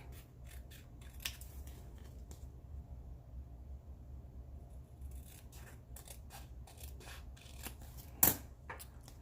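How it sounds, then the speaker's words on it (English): Scissors snipping along a line on a paper roll-on label, a quiet run of crisp, rapid cuts in short bursts with pauses between them and a louder snip near the end. "I'm going to be sure to cut it really close to the line this time."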